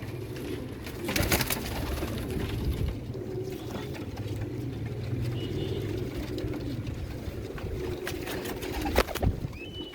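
Pet pigeons coo steadily in a low rumble, with a few louder bursts of fluttering or knocking near the start and end.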